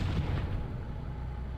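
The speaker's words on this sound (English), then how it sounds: "you can shoot the gun as well as the machine gun as well as the main cannon" Tank main cannon fire in the video game Halo CE on the original Xbox, a heavy booming blast with a rumbling low tail that fills the short stretch, loud and close with no talking.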